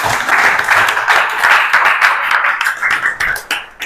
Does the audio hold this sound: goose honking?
no